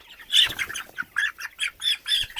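A broiler chicken squawks repeatedly as it is picked up, a close series of loud, harsh, rhythmic cries with short gaps between them.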